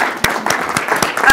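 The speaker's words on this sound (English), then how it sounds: "Let's give them a round of applause." An audience at an amphibian talk applauds, dense overlapping hand claps forming a steady, loud wash of clapping close by throughout.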